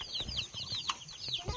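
Baby ducklings peeping up close: a run of rapid, high, thin chirps in quick repeated bursts, with soft scuffling and small knocks underneath, no voices.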